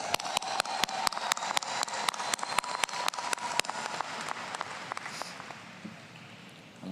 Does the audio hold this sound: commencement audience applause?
yes